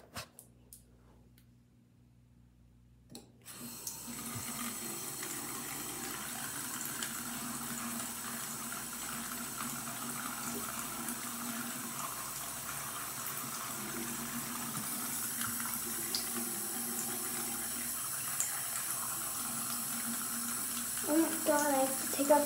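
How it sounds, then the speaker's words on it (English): A tap runs steadily while someone washes their face at a sink. The soft, constant hiss of water starts after about three seconds of near silence and continues to the end. "I'm gonna wash my face"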